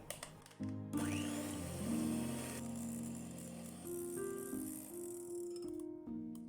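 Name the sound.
electric mixer whipping on high setting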